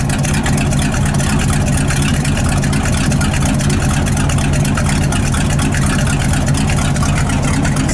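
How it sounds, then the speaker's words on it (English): A 1978 Ford F-700 truck engine idles cold with a new exhaust, a loud steady low rumble with a fast even pulse that holds unchanged from start to finish, close by and with no voices. "So you hear that idle? It's still a little cold."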